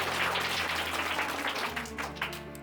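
Children in a village gathering in Meharban Kheda, Unnao, clap together in a dense, close burst of applause that fades slightly toward the end.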